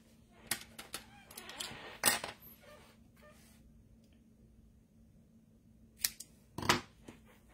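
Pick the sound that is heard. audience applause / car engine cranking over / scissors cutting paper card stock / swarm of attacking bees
scissors cutting paper card stock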